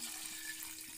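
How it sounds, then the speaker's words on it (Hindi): Water pours steadily into a cooking pot on a home stove, a continuous splashing hiss lasting about a second with no voices. "पानी डालो"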